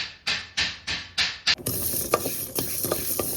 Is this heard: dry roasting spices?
yes